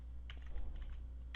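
Several quick keystrokes on a computer keyboard while text is entered in CorelDRAW, a short cluster of soft clicks near the start and another near the end over a low steady hum.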